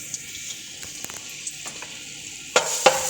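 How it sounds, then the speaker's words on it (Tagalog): Garlic dropped into hot oil in a pot sizzles and crackles steadily, with a loud burst of frying near the end as it hits the oil. "mainit na yung kaldero natin na may mantika. Ilagay na natin yung bawang."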